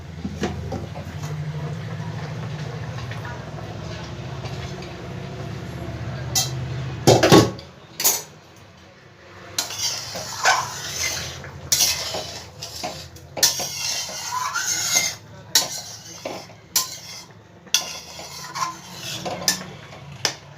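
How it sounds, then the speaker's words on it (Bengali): A cooking pot lid is lifted off over a high gas flame while potatoes boil for a milk-based rohu fish curry: a steady simmering rush, then a clatter as the lid comes off, followed by scattered scrapes and clinks of utensils. "ঢাকনাটা এবার একবার খুলবো।"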